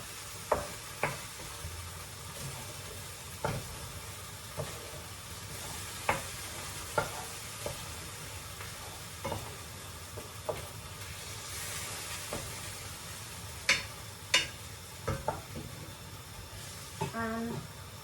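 A Maggi noodle mixture is stirred and mixed on a plate, producing soft repeated scrapes and clicks at an uneven rhythm over a faint background hiss.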